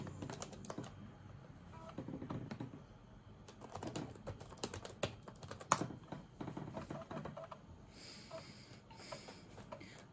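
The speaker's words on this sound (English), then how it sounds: "Typing" Quiet, close typing on the keyboard of a Toshiba Tecra 730XCDT laptop, irregular bursts of key clicks with brief pauses and soft breathing, no speech.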